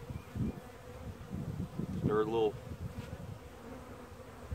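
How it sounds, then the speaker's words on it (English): Honey bees in a shipping package, feeding on queen candy, buzz in a steady close hum, with a brief spoken phrase partway through. "these bees are already starting to eat on that candy"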